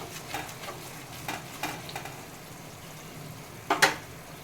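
Spice paste with kasuri methi is stirred and frying softly in a pan, giving a faint low sizzle with scraping stirs and a brief louder clatter near the end.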